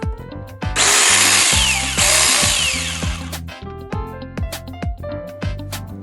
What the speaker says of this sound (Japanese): 小型コードレス式電動チェーンソー、